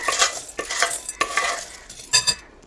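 Fried chanachur snack ingredients, among them crisp curry leaves and boondi, stirred and tossed together in a bowl, giving a series of dry rustling, scraping bursts with short pauses between them.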